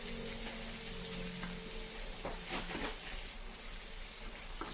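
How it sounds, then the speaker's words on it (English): Fish frying in hot oil until crispy, a steady close sizzle with bubbling crackle and a few brief scraping stirs partway through, no talking. "I'll fry it until it gets crispy."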